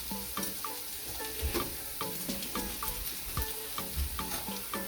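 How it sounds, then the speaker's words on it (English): Salt fish fritters frying in a pan on a stovetop burner for a Jamaican recipe, with a steady sizzle of hot oil broken by soft stirring and scraping knocks, close and continuous with no talking. "after you fry them at 5 minutes on both sides"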